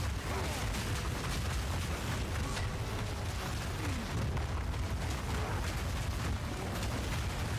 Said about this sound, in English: Hammer in, hammer explosion.